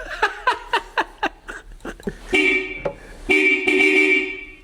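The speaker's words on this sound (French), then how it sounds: "Petit klaxon, très stylé." Horn of a 1991 Toyota MR2 found abandoned in a barn: a string of short, sharp beeps gives way to two longer sustained honks, loud and close, with a man's brief laughter and breath around them.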